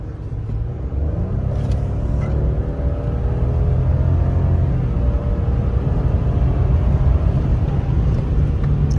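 A Ford F-150 truck with the 2.7 EcoBoost twin-turbo engine accelerates on a night drive, a deep, rising rumble heard from inside the cab, steady and loud with no talk.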